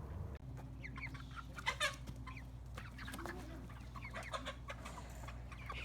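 Heritage chickens cluck steadily, with roosters among them, in a continuous low murmur of farmyard clucking and scattered sharper calls, close and moderately loud with no talk.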